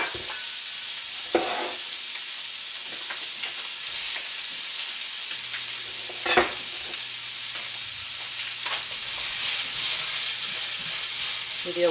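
Vegetables sautéing in a small, slightly dry pan for a homemade burrito bowl, a continuous close hiss and sizzle with occasional stirring scrapes and knocks over about twelve seconds, no speech.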